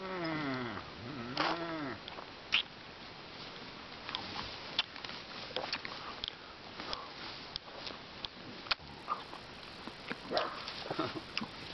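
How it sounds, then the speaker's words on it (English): Hungry goats in Hawaiian Acres, Hawaii: one wavering bleat rises near the start, followed by scattered rustling, shuffling and snuffling sounds at moderate volume. "Hungry goats."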